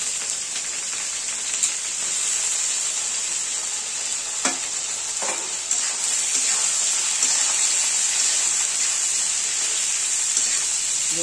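Cut pointed gourd (potol) sizzles and fries in a hot kadai with onions browned in oil, a continuous crackling hiss with occasional stirring clacks, close and fairly loud.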